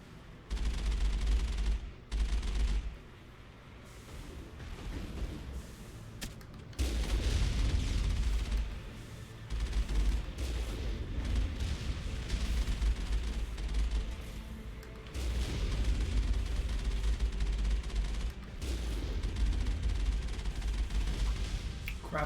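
Mass Effect firefight with dense, sustained bursts of rapid gunfire and booming impacts in repeated waves, broken by short lulls, loud and close throughout.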